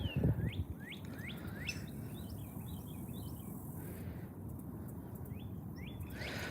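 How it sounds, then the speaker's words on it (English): A loud bird repeats sharp rising whistled calls outdoors during a fishing outing, a series of close chirps over steady insect buzz and background noise. "That bird was loud."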